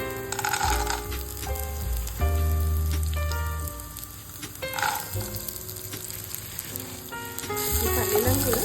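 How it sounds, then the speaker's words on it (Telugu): Peanuts frying in a little oil in a pan for palli chutney, a steady crackling sizzle with stirring scrapes and clinks of a utensil against the pan, close and continuous. "ఈ పల్లీలను కూడా మంచిగా ఫ్రై చేసుకోవాలండి కొంచెం ఆయిల్లో"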